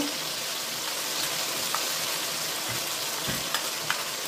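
Ground cumin and ginger paste in a hot pan for a Bengali potato dum, a constant, close crackling sizzle with a few light clicks from stirring.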